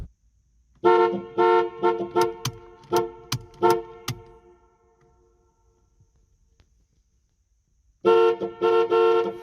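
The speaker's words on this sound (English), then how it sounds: "When I use the indicator, sometimes the car will honk the horn." A Pontiac Firebird's horn with a fault that makes it honk randomly sounds in a run of loud, uneven toots close up, falls silent for a few seconds, then blares again in another burst.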